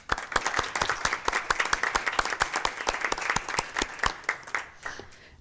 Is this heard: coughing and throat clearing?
no